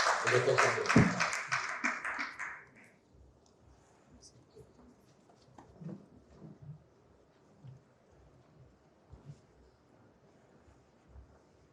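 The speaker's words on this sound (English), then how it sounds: "Please a round of applause for our panelists." Applause from a small audience, loud at first and fading after a few seconds, followed by quieter room noise and scattered sounds.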